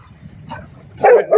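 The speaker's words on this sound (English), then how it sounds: "We got the beautiful dog here." A dog at a dog park gives a soft low whimper, then two sharp, loud close barks or yips in quick succession.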